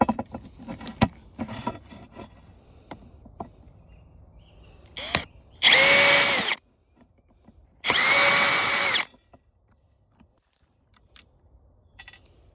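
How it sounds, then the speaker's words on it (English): A power drill unscrews screws to take apart a stand-up floor fan, with two clear bursts of whirring motor separated by pauses, plus scattered clicks and handling clatter of parts around them. "I gotta unscrew to get it off the side post."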